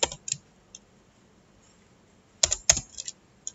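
Bursts of computer keyboard typing while entering a SQL query, short clusters of clicky keystrokes separated by a quiet pause, close and clear with no talk.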